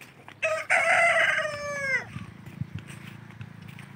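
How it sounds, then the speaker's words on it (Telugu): Free-range country chickens in an open fenced farm area, a rooster crowing loudly and close with a long drawn-out call, followed by scattered clucks and low farmyard noise. "చాలా ఓపెన్గా స్ట్రెస్ ఫ్రీ తోటి చాలా ఫ్రీగా తిరుగుతూ ఉంటాయి నాటుకోళ్ళు మా ఏరియాలో"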